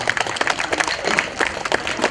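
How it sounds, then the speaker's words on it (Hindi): A crowd at a Navratri Utsav celebration in a Thane residents' club applauds to welcome Brahma Kumari performers, brisk uneven clapping, fairly loud and close, with some rhythmic beats. "आप सभी उन कलाकारों के लिए जोरदार तालियों से उनका स्वागत कीजिए"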